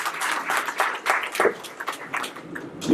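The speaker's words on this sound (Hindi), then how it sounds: "आप सबसे निवेदन की जोरदार ताली बजाकर उनका स्वागत करें" Audience applause filling a Congress party hall at Rajiv Bhawan to welcome a guest speaker, steady dense clapping from many hands for about three seconds, fairly close and lively with no talk over it.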